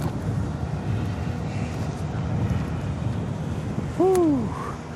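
Wind blowing outdoors as a steady low rumble buffeting the microphone, with a brief rising whistle-like tone near the end and no voices.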